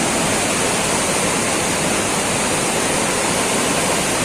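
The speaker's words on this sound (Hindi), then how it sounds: "और शायद आपको पानी की आवाज़ सुनाई दे रही होगी" Loud, steady rushing of river water at the Devprayag confluence in Uttarakhand, a dense continuous roar with no breaks and no voices.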